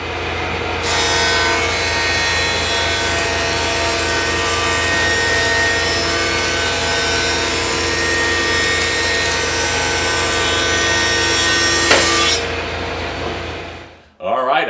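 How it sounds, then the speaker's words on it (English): A wood planer running cedar boards gives a loud, steady machine roar with a harsh broadband whine, continuous for about twelve seconds, then cuts off and winds down. "I'm going to put these together in pairs and run them through the planer"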